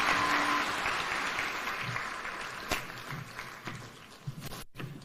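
An audience at Kenya Innovation Week 2023, the Commonwealth Edition, applauds President Ruto after he officially opens the event, a steady wash of clapping that fades slightly over several seconds, with a few sharper knocks near the end.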